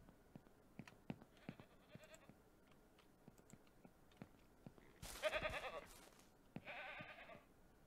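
Goats bleating on a ranch in the Ranch Simulator video game, a couple of loud wavering bleats in the second half over quiet clicking, with no talking.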